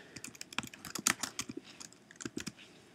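Clicky keystrokes on a computer keyboard while editing content in a CMS, a quick irregular run of close taps with a few firmer presses like the enter key.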